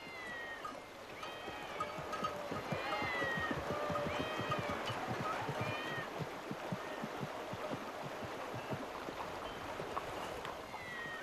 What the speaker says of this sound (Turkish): Bunca kedi burada ne arıyor?